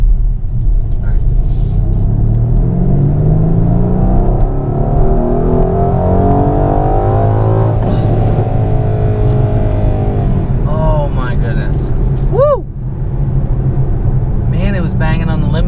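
A loud, deep AMG V8 engine in a 2021 Mercedes-Benz GLC 63 Coupe rumbles and revs hard, climbing in pitch and bouncing against the limiter, with people talking over it up close.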